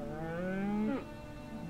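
A cow in the video game Skyrim gives a single drawn-out moo that slides downward and stops abruptly, clear against a quiet background.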